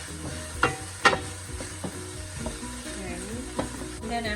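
Oil sizzles in a pan, about three tablespoons heating for a steamed fish sauce, with a few sharp utensil clinks and scrapes over the steady crackle.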